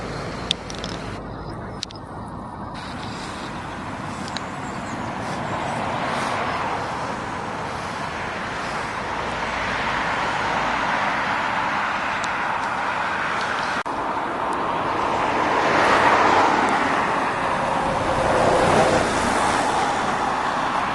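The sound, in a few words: heavy road traffic on a dual carriageway in Aberdeen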